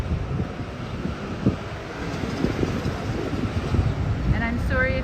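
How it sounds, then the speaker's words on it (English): Blustery wind buffets the microphone during an outdoor walk through a small town on a spring day, a steady broadband rush under intermittent speech, with a faint tonal chime near the end. "And I'm sorry if it's really windy."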